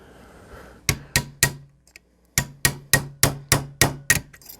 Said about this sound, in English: Just tap it in. Tap it in, just a little tappy,